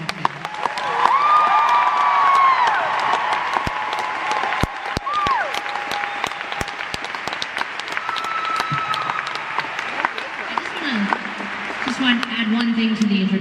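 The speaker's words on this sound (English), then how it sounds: "would you please give a massive round of applause for our friend" Concert audience at Rockefeller Chapel applauding and cheering, a broad sustained wash of clapping with whistles and shouts that stays loud throughout, alongside a tonal voice-like line early on.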